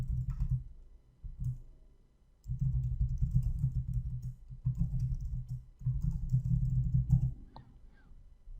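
Someone typing on a computer keyboard in three bursts of rapid keystrokes with short pauses between them, close and fairly muffled.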